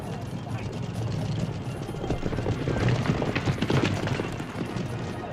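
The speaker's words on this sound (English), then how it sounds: "the horses don't gallop but trot" Harness-racing horses trotting during time trials at a racetrack in China, a rapid, dense clatter of hooves that swells louder midway, with voices mixed into the background.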